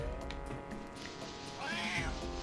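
A cat meows in the video game Banjo Tooie, two or three drawn-out meows under game music, with the later one louder.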